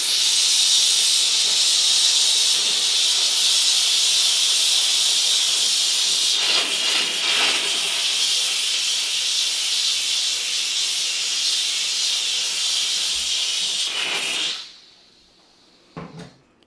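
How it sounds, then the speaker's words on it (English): A Bissell Steam Shot steam cleaner with a brush attachment gives a loud, steady, close hiss of steam that lasts about fourteen seconds and then cuts off, followed by a couple of faint clicks. "put the steam cleaner on that and see what this thing's capable of"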